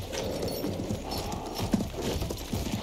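Horse hooves clopping in the video game Battlefield 1, a quick run of close hoofbeats over a rumbling background.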